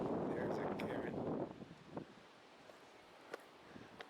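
High wind at the White Pine mountain lookout among dead trees, a loud rushing gust buffeting the microphone that dies down after a second or so into faint breezy rustle, with a voice talking through it.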